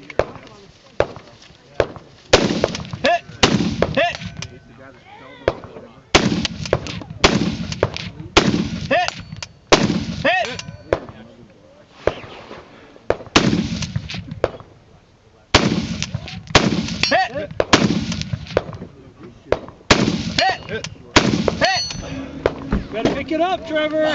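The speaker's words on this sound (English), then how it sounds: "Was Sam shooting before you or after you?" Gunshots at a 3-gun shooting competition ring out as a long series of loud, sharp cracks in irregular bursts, some close together, with people talking and calling out between and over the shots.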